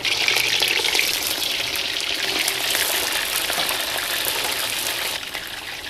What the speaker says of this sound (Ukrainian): Після того, як масло гарно нагрілось, порційно смажимо м'ясо.